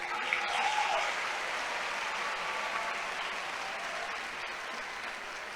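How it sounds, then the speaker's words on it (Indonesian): Audience applause at an Islamic boarding school (pesantren) gathering, a steady broadband clapping from a crowd that swells at the start and holds evenly for several seconds without speech. "Tepuk tangan untuk Anda semuanya"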